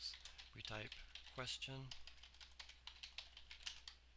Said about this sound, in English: So we're going to type it ourselves.